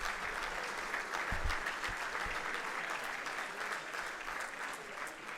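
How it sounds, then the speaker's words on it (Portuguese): Sustained audience applause at an association's 23rd anniversary gala, a dense, even wash of clapping from a large crowd that continues steadily throughout. "para ela também uma grande salva de palmas"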